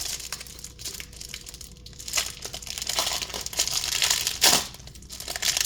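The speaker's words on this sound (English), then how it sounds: "First thing first, I'm going to get it out of this plastic." Stiff plastic packaging crackles and crinkles as a new playmat for the Digimon Card Game is pulled free, a continuous close rustle with louder bursts of crumpling and tearing throughout.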